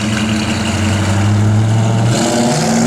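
A 1972 Plymouth Road Runner's V8 growls loudly nearby as it pulls away, the engine note climbing steadily under acceleration before a gear change near the end, with no talking.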